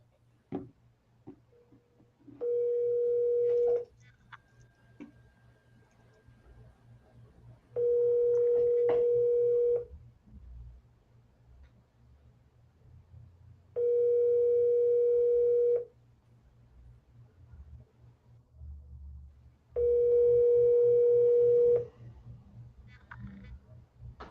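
Telephone dial tone during a double-dialed call, coming in four steady, evenly spaced bursts of about two seconds each over a low hum, with no talking.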